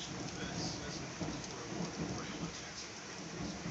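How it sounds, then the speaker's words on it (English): Thunderstorm with heavy, fast rain pouring steadily, a dense close hiss with low rumbling thunder rolling beneath it throughout. "it is thundering and lightning, and raining really, really fast"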